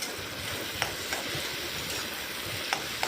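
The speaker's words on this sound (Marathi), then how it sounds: "टमाटा पण हलवून घ्यायचा आहे" Tomatoes stirred into fried onions in a pan for a dry chicken dish, giving a soft, low sizzle with a few faint spoon scrapes against the pan and no talking.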